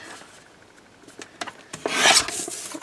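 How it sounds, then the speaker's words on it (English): A paper trimmer slices a sheet of paper for a junk journal pocket. Light scratches and taps are followed by a short, close, rasping cut lasting under a second near the end. "So I'm just going to bring back in my trimmer. I'm going to cut this one at 5 inches"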